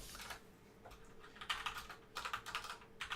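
Computer keys are typed in short irregular bursts, quiet and close, with pauses between flurries and no speech.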